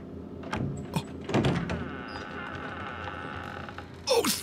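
A door opening in the horror video game Resident Evil 7, a quiet creaking and mechanical scraping with a few soft knocks, ending in a sharper rattling clatter; no voices.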